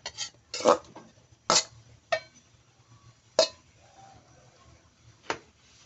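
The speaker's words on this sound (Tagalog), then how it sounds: "Ilagay ko na rin po ang patola." Sponge gourd (patola) slices dropped into a pot of sardine soup with misua, giving a few separate clinks and knocks against cookware with quiet gaps between them and no talking.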